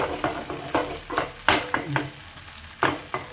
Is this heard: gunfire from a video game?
no